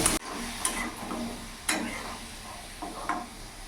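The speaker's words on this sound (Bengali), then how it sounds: "সামান্য অল্প লবণ দিলাম, অল্প হলুদ গুঁড়ো দিলাম, লাল লাল করে ভেজে নেব।" Potatoes frying in oil seasoned with salt and turmeric, a steady close sizzle with occasional sharp stirring scrapes and clicks from a utensil.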